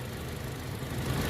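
A Toyota Kijang Innova Reborn 2.0 Q manual from 2016, with its 2000 cc four-cylinder rear-wheel-drive engine, runs with the hood open. It gives a steady, close, low mechanical rumble with no one talking.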